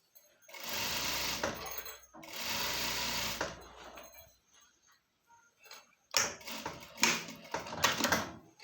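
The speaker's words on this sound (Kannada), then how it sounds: "ಈ ರೀತಿನೇ ನಿಧಾನವಾಗಿ ಒಂದೇ ಈವನ್ ಆಗಿ ಟಾಪ್ ಸ್ಟಿಚ್ಚನ್ನ ಹಾಕ್ಕೊಳ್ತಾ ಬರಬೇಕು." A sewing machine runs top stitching along a pair of pants in several short bursts, two long runs followed by a pause and then quicker choppy runs, close and fairly quiet.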